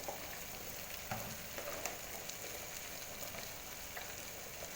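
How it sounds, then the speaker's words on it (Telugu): Cauliflower and potato pieces fry in a pan with tomato and spices, a faint, steady sizzle with occasional soft stirring clicks and no voices. "గోబీ అండ్ బంగాళదుంప ముక్కలు మనం యాడ్ చేసుకోవాలి"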